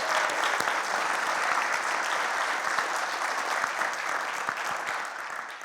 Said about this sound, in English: Let's give a round of applause for Don Sternberg and Steve Rashid bringing music this morning.